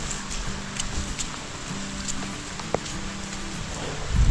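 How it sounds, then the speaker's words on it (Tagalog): Heavy rain pouring down steadily outdoors, a dense continuous hiss of drops on surfaces with no pause. "Kasi malakas na talaga yung ulan."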